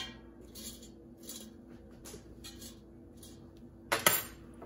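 Chicken breast is flipped in an air fryer basket with a few soft clinks and scrapes of a utensil, faint and intermittent, ending in a sharper metallic clatter near the end.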